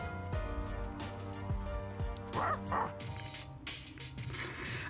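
Koromaru, the dog in Persona 3 Reload, voiced by a human actor imitating canine sounds: a few short yips and woofing barks with a soft whimper, over background game music.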